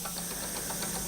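A 1950s Mamod Minor 2 model steam engine of mainly brass build with a Mazak flywheel runs smoothly, giving a faint, steady rhythmic chuffing and mechanical whir.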